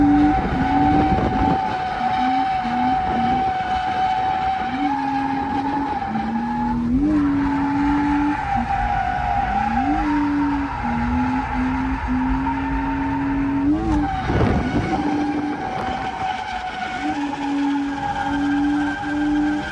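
A BMW E36 drifting on a go-kart track, with long, loud tire squeals rising and falling over a steady engine roar, repeating through several slides.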